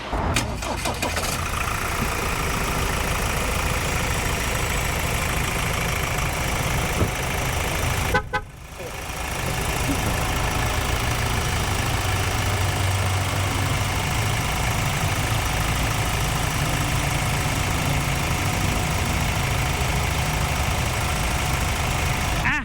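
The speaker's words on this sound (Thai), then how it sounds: "เดี๋ยวไปฟังเสียงเครื่องยนต์กัน" A 2021 Ford Everest 2.0 Titanium+ diesel idling steadily and loudly close by, with a brief dip as it is restarted, then a continuous, even running note.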